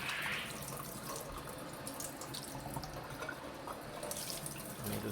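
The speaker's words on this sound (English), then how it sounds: "we do a violent spray like that to make sure they get well wetted" Water sprays forcefully and steadily onto a tray of soaked sunflower microgreen seeds, a continuous faint hiss with small splashing variations throughout.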